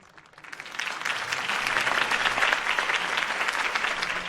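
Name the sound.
crowd applause in a video game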